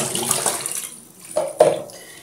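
Cassava being washed by hand in a basin of clean water, with splashing and sloshing that fades, then two brief sharp splashes and water movement near the end, close by.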